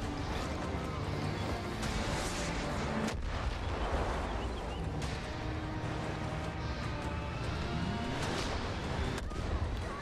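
Mortar fire in the post-apocalyptic shooter Far Cry New Dawn, heavy booming blasts and rumbling impacts repeating over dense continuous battle noise for about ten seconds, with voices faintly mixed in.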